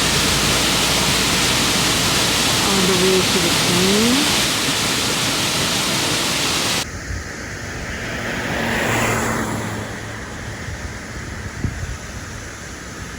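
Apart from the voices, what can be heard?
waterfall in Alaska near Skagway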